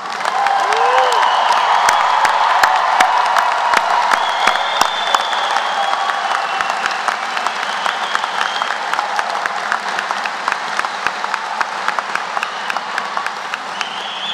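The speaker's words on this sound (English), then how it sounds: "Please join me in another round of applause." An audience at a Queensbury High School Class of 2022 graduation ceremony breaks into loud, sustained applause with scattered cheers, a dense steady clapping wash that fills the space throughout without fading.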